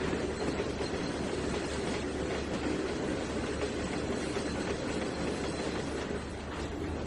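A long freight train runs in the Trainz 2019 railway simulator, giving a steady, loud, continuous rumble of wheels and cars with faint clickety-clack throughout and no voices.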